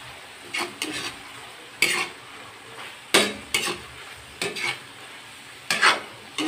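Stir-fry with soy sauce being stirred in a pan, a low sizzle broken by about eight loud scraping and clanking strokes in irregular bursts, close and without talk.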